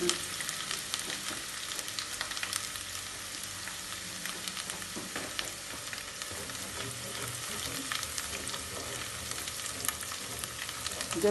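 Chopped ginger and garlic sauté with whole garam masala in a pan, giving a soft, continuous sizzle with faint stirring scrapes, quiet and unbroken, with no talking.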